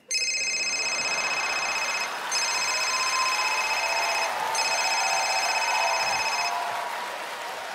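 A telephone rings as a stage sound effect during a comedy sketch, with steady electronic ring bursts repeating in a loud pattern, alone and without talk.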